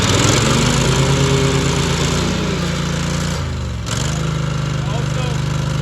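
A Cub Cadet 2518 lawn tractor engine runs loud and close, a continuous droning rumble with a brief dip in pitch and level near the end before recovering.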